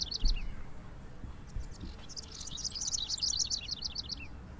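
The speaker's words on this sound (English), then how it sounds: "You can hear the nice little birds in the background." Chirpy, tweeting bird calls from the Coromon video game play softly in repeated quick bursts over a low ambient game background, with no talk.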